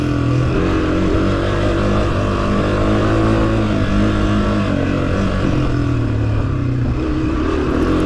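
Honda CRF250F dirt bike engine held in second gear during a hare scramble race, a loud, steady, continuous engine drone with slight wavering in pitch throughout.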